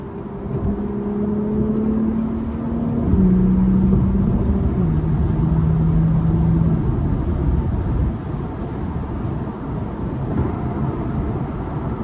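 An Acura Type-S all-wheel-drive car cruising on the highway, with a steady engine drone and road rumble filling the interior, rising briefly as the engine note shifts, continuous and close throughout.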